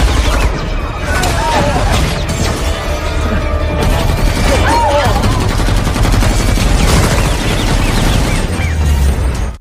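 A gunfight breaks out between bodyguards and a mafia gang in a casino room during a film scene, with loud, dense bursts of rapid fire over a constant roar of action noise, mixed with shouting voices.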